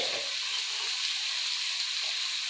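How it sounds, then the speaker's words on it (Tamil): Tomatoes with green chilies and onion sautéing in a pan for sambar, a steady close sizzle and hiss throughout, with no talking. "தக்காளி நல்லா வதங்கணும்."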